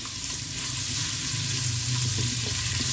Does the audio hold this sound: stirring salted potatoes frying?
yes